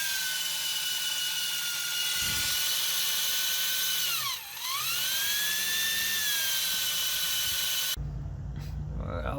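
A high-pitched drill with a large bit whines steadily drilling out a ball joint rivet on a Saturn Vue, its pitch dipping briefly as it bites under load, then cuts off near the end.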